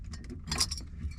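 A bunch of keys jangles briefly at close range, a quick metallic clinking and rattling heard alone over low background hum.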